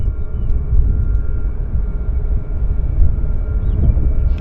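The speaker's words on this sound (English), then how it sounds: "Great footage of Boeing jetliners taxiing here at Vancouver International Airport." Boeing jetliners taxi at Vancouver International Airport, their engines a continuous low rumble and steady drone with a faint high whine, heard from a distance without voices.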